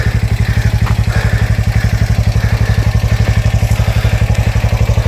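A motorcycle engine runs close and loud with a steady fast pulsing thump, a rhythmic low chug repeating evenly throughout with some clatter and no talking.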